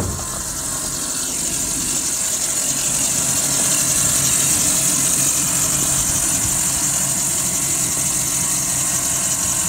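A General Motors vehicle's hydraulic pump moans steadily under an idling engine, with a constant high whine held over a low rumble, close and loud throughout.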